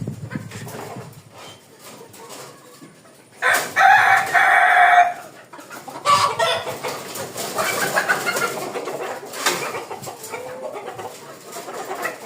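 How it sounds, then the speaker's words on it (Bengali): Kadaknath chickens on a poultry farm, with a loud rooster crow rising sharply in the middle and more crowing and clucking from several birds around it, plus some scuffling background noise. "আমি আরেকটা মুরগি ধরে দেখাই"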